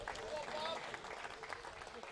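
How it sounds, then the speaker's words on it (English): Crowd applause at a golf tournament prize presentation for the winner of the Andhra Open Golf Championship at East Point Golf Club, steady dense clapping with a voice talking over it. "Big round of applause there for the winner."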